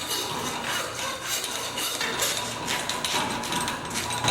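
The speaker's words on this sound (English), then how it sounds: "Let the saw do the cutting." A hand saw rasps steadily back and forth through deer bone while a carcass is butchered with simple hand tools, making close, continuous scraping strokes with no talk.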